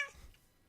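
A short, faint cat meow from a Minecraft cat fades out quickly over quiet background.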